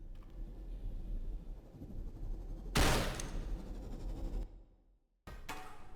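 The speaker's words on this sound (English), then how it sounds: "Gunshot?" Gunshot in the video game CloverPit: a single loud, sharp blast over a steady low background hum, with a decaying tail. The sound then cuts to brief silence before the background returns.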